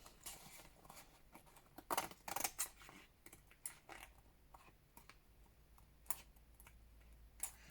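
Paper being trimmed with scissors for a handmade envelope notebook, a quiet run of irregular snips and small crisp cuts with soft handling rustle between them, close and alone.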